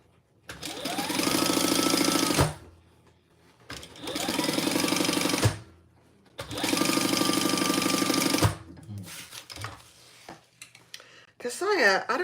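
A home sewing machine stitches in three sustained bursts of about two seconds each, separated by short pauses, loud and close, with brief handling clatter at the end.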